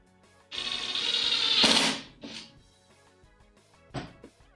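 An impact driver sends pocket-hole screws into a shop utility cart: a close, sustained buzzing hammer for about a second and a half, ending in a sharp burst, then two brief quieter bursts, with no talk.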